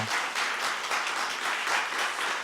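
A church congregation claps steadily for the choir after a Sunday morning service hymn, a dense, sustained wash of applause from many hands filling the room without pause.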